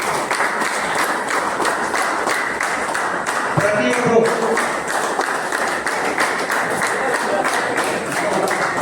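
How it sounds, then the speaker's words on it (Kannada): Rhythmic clapping in unison from a crowd of farmers at an organic farming training session carries on steadily, with a voice briefly speaking over it. "ಚಪ್ಪಾಳೆ ನಿಲ್ಬಾರ್ರಿ."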